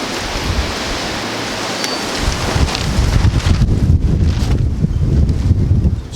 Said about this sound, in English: the wind's blowing it out